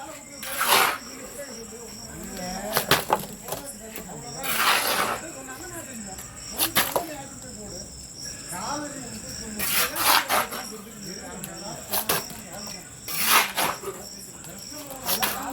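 Concrete is shovelled into a mould for a fish tank setup in repeated rough scraping, gritty bursts at close range, spaced a second or two apart, with a voice talking between them.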